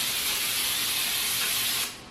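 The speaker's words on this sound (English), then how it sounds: "So I am going to just spray this." Cooking spray hisses steadily onto a baking pan being greased for banana bread, one continuous close burst lasting nearly two seconds before it cuts off.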